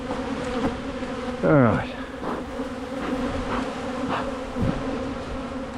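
Honey bees buzz around a beekeeper working a struggling nuc hive, a steady close droning swarm with one loud bee zipping past near the face, and a single brief spoken word.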